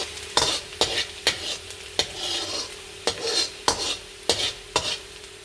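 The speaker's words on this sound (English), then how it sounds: "Now the oil oil's heated, I'll put some garlic in. And I'll start stirring it." Garlic fries in hot oil under a steady sizzle while a utensil scrapes and taps the pan in a regular rhythm of sharp strokes, close and clear with no voices.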